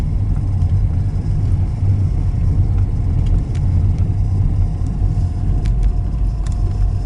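A car drives down a rural back road in Clay County, Florida, its engine and tyre rumble holding a steady, close, continuous drone from start to finish, with no talking.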